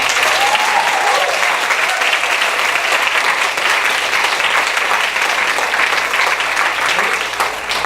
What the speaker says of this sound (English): So let's give another round of applause to Risë Wilson.